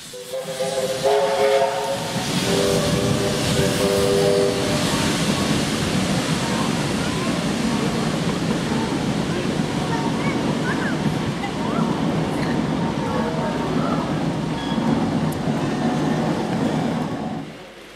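Locomotive 3526 on a shuttle trip in New South Wales rumbles past steadily at close range, a whistle sounding near the start, with a continuous roar and hiss throughout.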